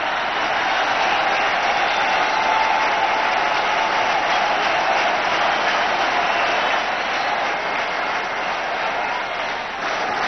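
A cricket stadium crowd in Kanpur applauds Sachin Tendulkar's century against Australia in 1998, a dense, continuous roar of clapping and cheering that holds steady and loud throughout with no voices standing out.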